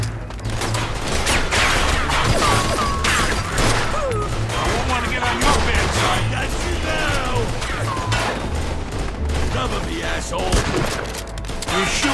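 Gunfire from the video game Mafia II: Definitive Edition, a dense run of shots and impacts throughout, loud and close, mixed with game sounds and occasional shouting voices.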